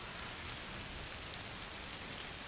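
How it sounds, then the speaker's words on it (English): Rain over a town in the video game A Plague Tale: Requiem, a soft, unbroken hiss of falling drops with faint scattered splatters, low and steady from start to finish without any talking. "I gotta see what the city looks like with the rain."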